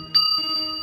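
A temple bell rings out once with a bright, sustained metallic tone during a live Bhagwat Katha religious discourse, sounding fairly close and clear over a steady background drone.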